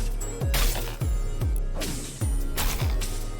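Robo-Kevin power pickaxe swung repeatedly in Fortnite Save The World, giving loud mechanical jackhammer-like impacts with sweeping downward tones, roughly two strikes a second over a busy game backdrop.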